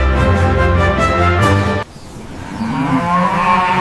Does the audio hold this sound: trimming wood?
no